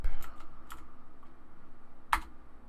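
Computer keyboard keys are typed in a few quick, close clicks with short gaps, then one sharper keystroke near the end, over a faint background hum.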